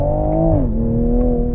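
A 2022 Toyota Supra GR accelerates hard through a dual-clutch gearbox, a loud close engine drone whose pitch climbs, drops at a quick upshift, then holds steady, with no talk over it.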